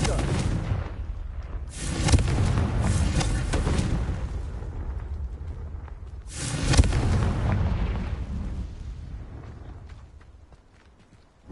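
Two heavy blasts from a Confringo blasting spell in a Harry Potter style adventure, each a loud rumbling boom that slowly fades, the second dying away into near silence.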